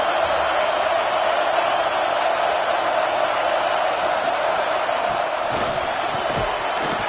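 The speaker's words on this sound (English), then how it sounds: "Listen to this crowd just shaking the girders of this place, trying to help their defense." A packed football stadium crowd roars for the home defense, a loud, sustained wall of cheering with sharper whoops and shouts rising near the end.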